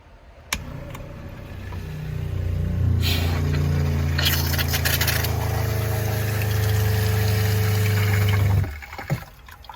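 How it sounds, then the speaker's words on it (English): An electric water pump in a Jeep Wrangler JLU camper's fresh and grey water system starts and hums steadily with a low drone for several seconds, then cuts off abruptly, leaving a quiet room. "I think we're ready to turn the switch on to the pump."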